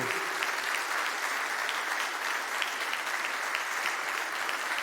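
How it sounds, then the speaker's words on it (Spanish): A church congregation gives a steady round of applause to the Lord during a worship service, continuous crowded clapping at an even level throughout, with a few sharper individual claps standing out. "Demos un aplauso al Señor"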